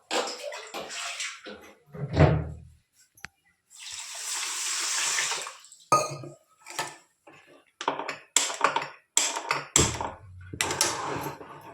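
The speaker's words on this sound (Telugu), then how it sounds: "అర్ధ కేజీ పైన వేసిన ఒక చెంబు నిండా నీళ్ళు అయితే పోసినాను" Water is poured from a full metal pot into a pan for gulab jamun sugar syrup, a steady rushing pour of a few seconds between clanks and handling knocks, close and fairly loud, with brief faint voices.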